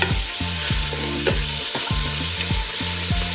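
Vegetables for a vegan bolognese sizzle in a pan, a loud steady frying hiss over regular rhythmic knocking of a utensil, close and without talk.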